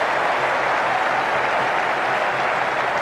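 A cricket crowd at a Pakistan versus Australia match buzzes and applauds steadily and loudly throughout, a dense wash of clapping and murmur with no distinct voices standing out.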